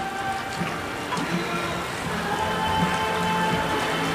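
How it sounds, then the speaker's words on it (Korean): A steady wash of running water fills the scene at a forest glamping site in Pocheon, South Korea, constant and fairly loud, with faint scattered clinks and murmurs beneath it. "지금 물소리 들리세요?"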